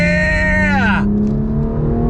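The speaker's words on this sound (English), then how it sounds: "Pulls all the way through the rev range." A BMW M2 Competition engine revs loud and close, its pitch climbing through the rev range before dropping sharply on a gear change and settling into a steady lower drone.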